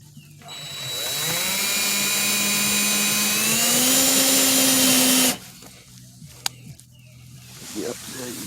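A power drill drives screws into a mailbox post base, a loud steady whine that rises slightly in pitch over about five seconds, then stops abruptly, leaving quieter background noise with a faint click.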